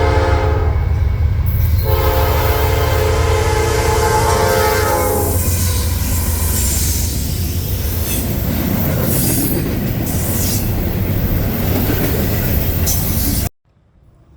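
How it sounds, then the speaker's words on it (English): Norfolk Southern freight NS-29A, led by a pair of C6M rebuilt locomotives, racing south in Kentucky: a loud, close, continuous roar with a horn blast and ringing wheel squeal, steady until it cuts off abruptly near the end. "it would be NS-29A, racing south with a pair of NS C6M rebuilds"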